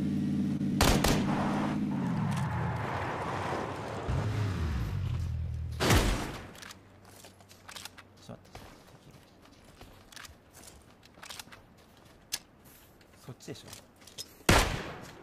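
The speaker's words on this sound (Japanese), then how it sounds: "右から銃声、右で銃声だね。" Gunfire from the right in a PUBG squad match: scattered sharp shots, some distant and faint, with a couple of louder cracks, amid in-game engine rumble and ambient noise.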